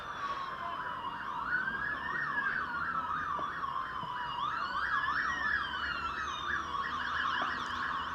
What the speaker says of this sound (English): as you hear the siren wailing through the city of Chelmsford.